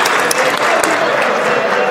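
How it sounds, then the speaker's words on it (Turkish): Dense, loud applause fills the Turkish parliament chamber, steady and unbroken throughout, with sharp individual claps standing out from the mass of hands. "Biz de sizi alkışlıyoruz."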